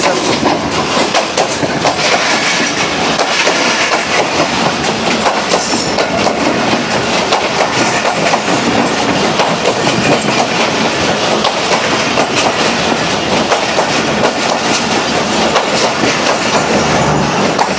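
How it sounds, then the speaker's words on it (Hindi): A historical safari train on the Rawalpindi to Attock Khurd railway line, hauled with an old power van, thunders past close by from a siding: loud, steady rumble and rapid clickety-clack of wheels on rail with no gaps throughout. "हम सफारी ट्रेन साइड पे खड़े हुए हैं, साइड लाइन।"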